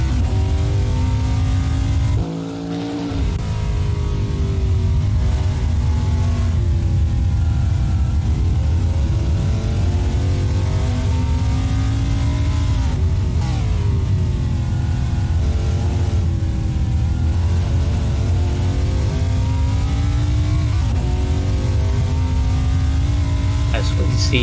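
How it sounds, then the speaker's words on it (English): Race car engines in an ATCM racing video game at Townsville Street Circuit, heard on board: a loud, continuous engine drone rising and falling through gear changes and braking, with occasional downshift dips. "We'll go on board and listen to the engines for a bit."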